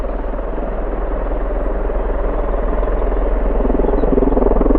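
V-22 Osprey tiltrotor aircraft flying at RAF Mildenhall, a continuous loud rotor drone with a fast pulsing beat that swells slightly, heard alone.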